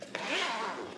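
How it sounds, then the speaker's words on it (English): A zipper running along a side-opening bag, one quick rasping pull lasting about a second, close and clear with no talking. "it opens from the side like that and zips all the way down to the bottom"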